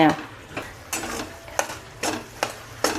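Flour roasts in ghee for Gujarati sukhadi while a spoon scrapes through the thick mixture in the pan. About seven regular, close strokes sound roughly every half second over a soft sizzle.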